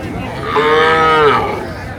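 One loud, close moo from a cow at Ambari livestock haat, Dinajpur, rises and fades over about a second against a low market hubbub.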